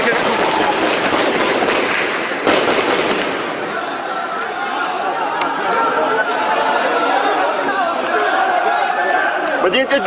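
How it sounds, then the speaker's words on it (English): Gunfire erupting in the city of Idlib, Syria: dense crackling shots with sharp bursts and one loud crack, over constant crowd chatter and shouting across the whole stretch. "shooting breaks out moments after they leave"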